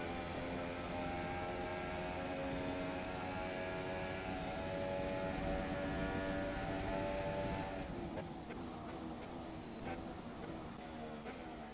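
Race car engine in a racing video game, a sustained harmonic whine and drone that holds steady and then shifts pitch as the car lifts off the throttle, heard alone and fairly faint.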